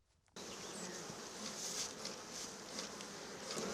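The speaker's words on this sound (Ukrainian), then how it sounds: "Бджіл, каже, обдимлює, щоб були спокійніші." Honey bees swarm around hives in a spring apiary at the edge of a forest, where the hives are being smoked with a smoker; a dense, steady buzz sets in suddenly and stays loud and close throughout.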